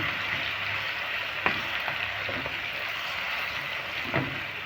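Garlic frying in a pan with strained grated taro juice for a taro-with-meat dish, a steady close sizzle broken by a few sharp scrapes and clicks as it is stirred.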